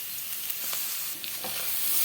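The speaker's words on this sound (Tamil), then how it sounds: "நம்ம எடுத்து வச்சிருக்கிற துருவின நெல்லிக்காய் அதையும் நம்ம இதோட சேர்த்துருவோம் சேர்த்துட்டு இதையும் நல்லா வதக்கி விட்டுடலாம்" Grated amla and onion sauté in a pan. A faint, steady frying sizzle carries a few soft stirring scrapes, close by, with no speech.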